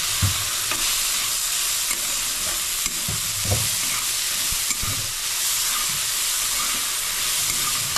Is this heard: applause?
no